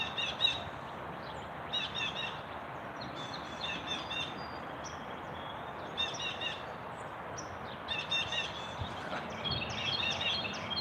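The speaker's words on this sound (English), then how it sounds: "What kind of bird is that?" A bird calls repeatedly in short, high chirping bursts over steady outdoor background noise, fairly close and moderately loud.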